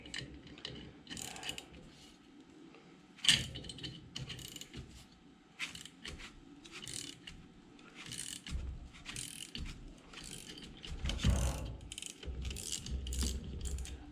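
A ratchet cranks down a part on a Jaguar independent rear suspension in a home workshop, giving repeated clicking pawl bursts with a few heavier metallic knocks, fairly close and moderately quiet, with no talk.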